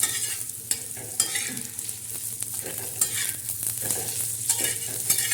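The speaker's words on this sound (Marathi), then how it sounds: "हे बघा असं भाजून घ्यायचं." Coriander and nigella seeds dry-roasting in a pan while being stirred: rapid scratchy rustling and light crackles in uneven bursts as the utensil moves them, close and alone without talk.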